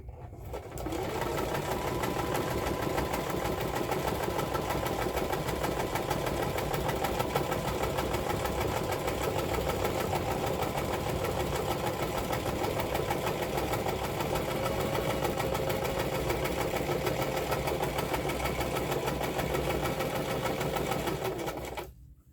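A sewing machine runs a continuous straight stitch, a steady dense mechanical whir that holds even and loud for about twenty seconds with no talking, then stops.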